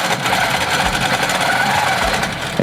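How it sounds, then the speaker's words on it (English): A sewing machine running steadily through free motion quilting, its needle clattering in a fast continuous rhythm, close and loud with no talk over it. "you just stitch right over the top of your other line"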